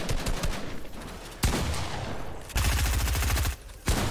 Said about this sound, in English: shooting him through the wall there